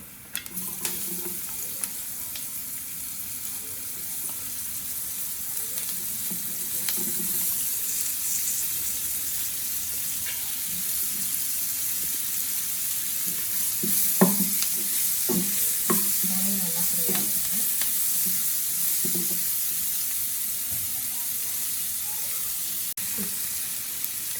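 Curry leaves and onion sizzle in hot oil for a long stretch, a steady frying hiss broken by bursts of spoon stirring and scraping against the pan, with no one talking.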